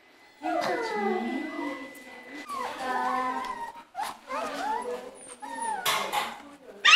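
Young puppies at play in a shared shelter space, whining and yipping in high, wavering cries that come in several bursts, close by, with people talking in between.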